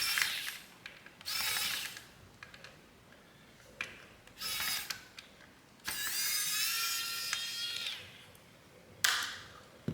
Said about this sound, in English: Okay, so we've taken out 8 screws.